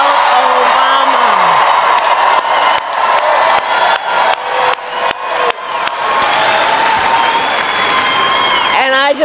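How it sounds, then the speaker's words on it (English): Sustained crowd applause with cheers and whoops for former First Lady Michelle Obama at a political rally, loud and dense throughout, with a voice speaking over it. "Can we please applaud my dear and incredible friend, the former First Lady, Michelle Obama."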